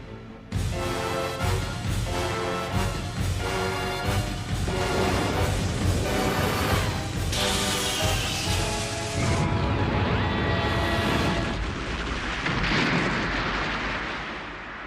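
Valkyrie energy weapon firing in the Ultraman Tiga series, a loud sustained barrage of booming blasts, crackles and rising sweeps over about fifteen seconds, with no talk.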